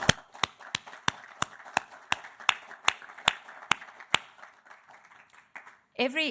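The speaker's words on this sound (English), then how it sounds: "Let me ask you for a round of applause for them." At a press conference with a government official, one or a few people clap for European Investment Bank and Fund staff, producing a dozen sharp, evenly spaced claps that stop abruptly before a voice resumes.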